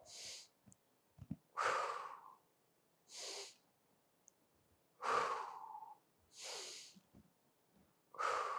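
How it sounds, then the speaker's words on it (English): During a diaphragm mobility breathing exercise, a person breathes in slow cycles: long, close, airy exhales and sighing breaths come roughly every one to two seconds, with quiet pauses between them and no speech. "So you're actually breath holding on the way down, exhaling on the way up."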